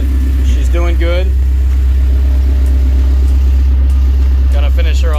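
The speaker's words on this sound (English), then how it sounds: "She's got a slight little miss, but running pretty good." A 1994 Honda Prelude SI engine idles with a slight miss, a loud, steady low rumble close to the microphone, while someone talks over it.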